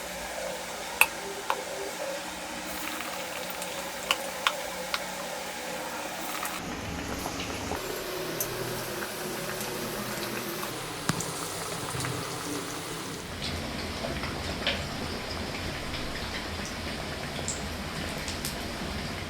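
Aloo bajji, potato slices in batter, fry in hot oil with a steady, soft crackling sizzle, dotted with sharp little pops and ticks throughout, no talk.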